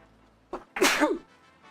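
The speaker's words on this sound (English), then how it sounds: "I sneezed" One sharp sneeze, a quick inhale followed by a loud explosive burst, close up and otherwise quiet.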